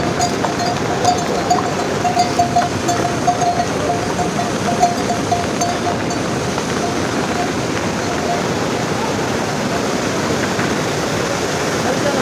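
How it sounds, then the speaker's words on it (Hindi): Rushing water from a waterfall beside the muddy Kedarnath pilgrimage trail in the Himalayas, a dense, steady roar that fills the whole stretch without a break, with faint clinks and a voice in the background. "जगह जगह पे इस तरह के झरने जो है बह रहे हैं,"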